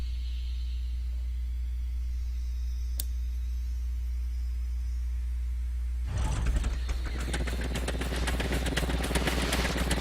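Vehicle engine in the video game Scrap Mechanic starting up partway through, a buzzy mechanical rattle rising abruptly over a steady low hum, with a single sharp tick a few seconds earlier.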